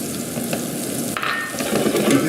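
Blanched risotto sautéing with mushrooms in a hot oiled pan, a close, continuous sizzle with a brief scrape of stirring near the middle, growing slightly louder toward the end, no talking.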